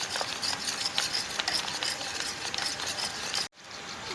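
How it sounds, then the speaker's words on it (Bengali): Milk being stirred into bottle gourd payesh in a pot, a steady scraping and swishing of a spoon against the vessel with small clinks, close and continuous before stopping abruptly near the end. "দুধটা দেওয়ার সাথে সাথে ভালো করে মিক্স করতে থাকবেন, তাহলে ডোলা পাকে যাবে না।"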